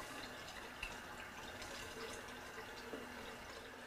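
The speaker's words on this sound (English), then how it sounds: "hot water then comes back out here into the sink" Hot wort from all-grain homebrewing runs steadily back into a sink, a faint continuous watery rush with no voices.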